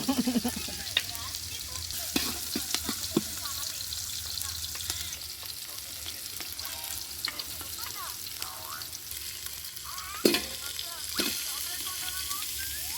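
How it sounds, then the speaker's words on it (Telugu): Ginger garlic paste frying in a pan for biryani at an outdoor feast by a rice paddy, giving a steady sizzle with occasional stirring scrapes and clatters; people talk intermittently nearby. "అల్లం వెల్లుల్లి పేస్ట్ వేస్తున్నాం"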